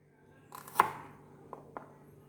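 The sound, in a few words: chopping shallots in half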